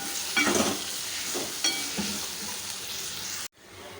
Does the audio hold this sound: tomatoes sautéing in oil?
yes